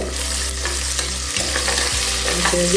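Small shallots sauté in hot oil, a loud, close, continuous sizzle and fry with occasional light stirring clicks, no one speaking.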